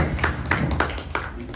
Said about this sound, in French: On va applaudir.